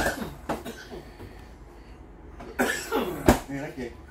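Inside a 2022 East to West Tandara 285RL fifth-wheel trailer, a person talks and breaks off with a few sharp coughs, one loud burst standing out near the end.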